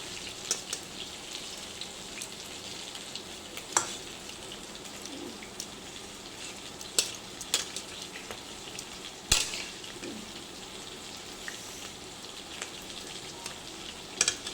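Chow kebab frying in hot oil gives a steady, fairly quiet crackling hiss with scattered sharper pops and spits throughout, and no voices.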